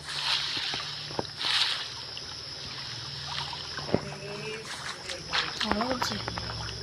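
A Coelophysis dinosaur drinks water in the survival game The Cursed Isle, giving steady sloshing, trickling water over an ambient bed, with a few brief splashy bursts and faint talk in the background.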